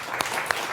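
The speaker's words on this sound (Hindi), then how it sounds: "तालियां" Brief burst of studio audience applause during a Hindi TV news debate about the film The Kerala Story, a dense clatter of claps with a few sharper peaks, lasting under a second.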